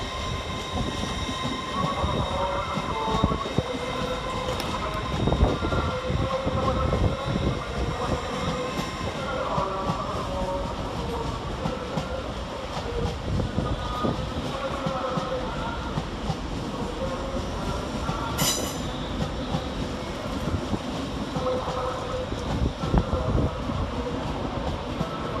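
An LNER service from London King's Cross to Edinburgh Waverley pulls out of Doncaster railway station. The rumble and clatter of the train rolls on steadily and fairly close, with a brief high squeal partway through.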